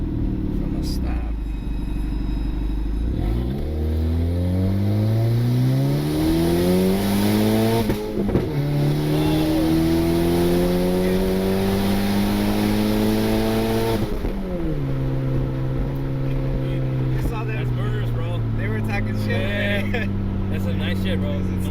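Turbocharged Honda Civic accelerating hard from a stop, its loud engine climbing in pitch through repeated gear shifts, heard from inside the car with people talking over it.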